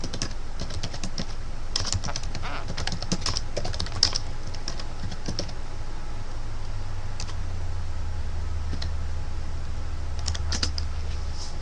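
Steady, fast typing on a computer keyboard fills the whole stretch, with close, crisp key clicks in irregular bursts over a constant background hum and no voices.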